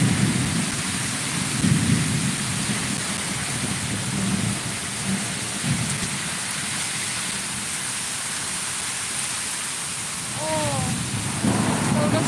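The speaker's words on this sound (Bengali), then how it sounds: "মেঘের আওয়াজ হচ্ছে ঝড় বৃষ্টি সব কিছু" Thunder rumbles through steady heavy rain during a morning storm, the downpour loud and continuous with deep low rolls rising and fading across the scene.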